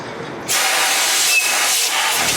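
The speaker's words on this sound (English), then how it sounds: "we can grab some compressed air" A sudden, forceful hiss of compressed air blasting steadily at close range onto a washed Ford 302 small-block engine, starting abruptly after a brief quieter moment.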